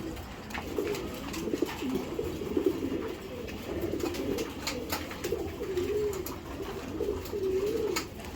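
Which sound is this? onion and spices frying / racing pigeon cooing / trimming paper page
racing pigeon cooing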